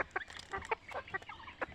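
Free-range domestic chickens cluck in short, repeated bursts nearby, a busy, uneven chatter of several birds at moderate volume.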